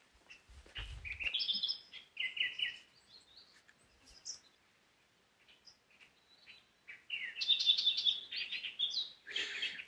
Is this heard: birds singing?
yes